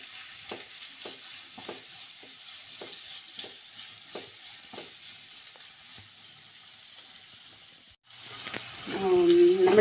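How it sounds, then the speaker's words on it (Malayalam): Three chopped onions sauté in hot oil with a steady close sizzle and repeated stirring scrapes. The frying swells louder near the end, where a voice briefly joins. "അത് നമുക്ക് ഇതിലിട്ടിട്ട് എണ്ണയിലിട്ട് ഒന്ന് വഴറ്റി"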